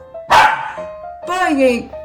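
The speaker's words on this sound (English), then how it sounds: "then there goes our dog barking" A dog from a 101 Dalmatians storybook gives a sharp bark followed by a longer yelping, whining bark, both close and clear over a faint sustained tone.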